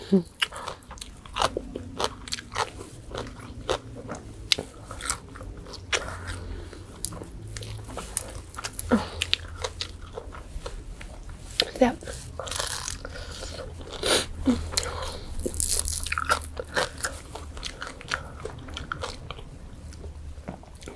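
Crispy fried pork tail eaten alongside spicy papaya salad is crunched and chewed close up, in a steady run of loud, crackling bites with occasional talk between mouthfuls.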